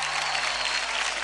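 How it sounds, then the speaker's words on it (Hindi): Dense, steady applause from the studio audience of Dance India Dance Li'l Masters, a televised children's dance competition on Zee TV, loud and continuous for the whole moment with no voices above it. "जोरदार तालियां हो जाए धर्मेश के ढिंचे ऋतुराज के लिए"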